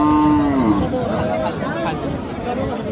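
Cow with a calf at a cattle market, one loud close moo opening the clip, followed by a crowd chattering in the background.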